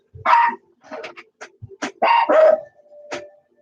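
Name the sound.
dogs barking at someone at the front door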